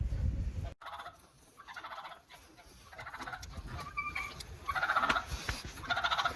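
Poultry calls from free-ranging chickens scratching in hay and straw on a farm, with gobbling and honking-like fowl voices in repeated bursts, fairly close and moderately loud, no talk.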